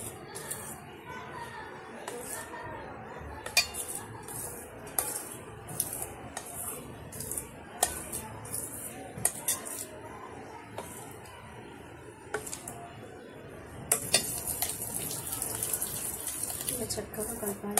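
A spoon stirs melted homemade chocolate in a bowl, giving a steady rhythm of light metallic clinks and scrapes against the bowl, with a brief rush of bright noise near the end.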